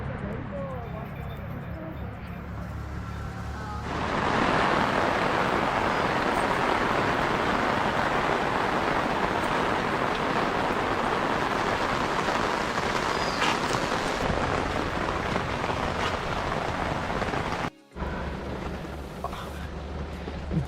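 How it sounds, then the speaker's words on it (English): Heavy rain sets in after a few seconds as a dense, steady hiss that continues with a brief break near the end, with faint voices beneath it. "just doesn't stop raining"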